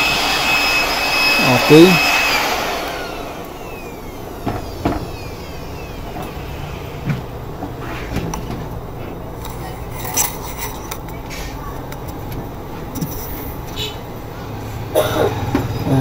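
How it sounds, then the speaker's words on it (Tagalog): A vacuum cleaner sucks dust out of a computer system unit during a hard drive repair, a steady broadband whoosh running throughout with small bumps as the nozzle moves and brief talk. "Vacuum natin ulit."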